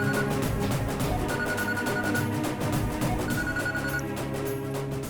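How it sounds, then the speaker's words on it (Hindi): A telephone rings with a repeated electronic trill in steady bursts, loud and continuous over a dense music bed, with no voices. "दीदी, जीजू का फोन है।"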